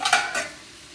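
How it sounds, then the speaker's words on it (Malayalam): Homemade potato fries frying in hot oil, a bright close sizzle that swells in two short bursts and then fades to a softer hiss, with no voices. "നമുക്കിത് വറുത്ത് കോരിയെടുക്കാം"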